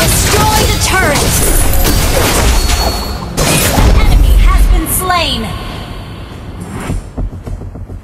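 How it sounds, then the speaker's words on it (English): Mobile Legends: Bang Bang turret destruction: dense game effects with booming impacts and crashing debris, rising and falling chirps, loud throughout and easing off toward the end over a game announcer voice. "You destroy the turret."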